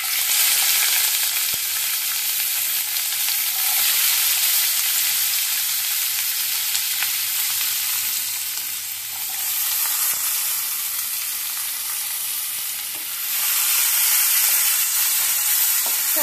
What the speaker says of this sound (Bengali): এবারে এর মধ্যে কুচনো পেঁয়াজগুলো আমি দিয়ে দেবো।